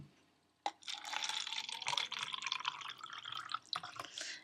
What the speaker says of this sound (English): and you will fill this about halfway with water.